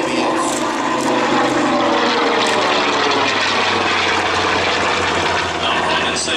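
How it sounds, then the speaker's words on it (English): A General Motors-built TBM Avenger, the single-engine WWII torpedo bomber, roars loudly and steadily as it flies past at the Wings Over Illawarra 2021 air show, with an announcer talking over it. "This is a General Motors built aircraft."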